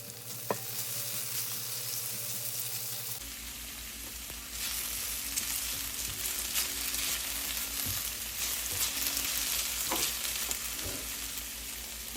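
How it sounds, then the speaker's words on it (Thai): Sliced potatoes fry in a pan with a steady close sizzle, broken by stirring scrapes and light clicks from a utensil, and no voices. "ซอยมันฝรั่ง ซอยจังใดก็ได้พี่น้องให้มันเป็นตอนอ้าวน้อยเดเวลาคั่วมันจะค่อยบ่"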